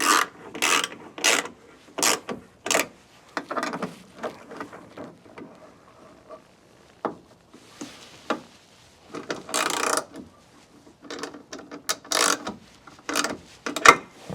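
Ratchet wrench tightening a bolt on a Maxzina bed extender fitted to an F-150 Lightning truck bed, heard as close, intermittent bursts of rasping clicks with short pauses between strokes.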